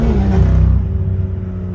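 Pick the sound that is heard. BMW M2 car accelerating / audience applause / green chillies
BMW M2 car accelerating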